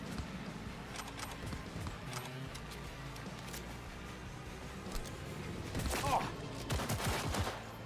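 Gunfire from a gun in Cyberpunk 2077 crackles in fast, quiet bursts through the clip, growing slightly louder near the end.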